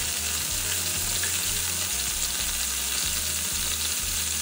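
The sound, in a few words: crab frying in oil in a pan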